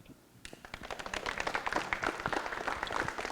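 Audience applause after a children's poetry reading at a school poetry club, starting abruptly and building into dense, steady clapping from a roomful of people that continues to the end.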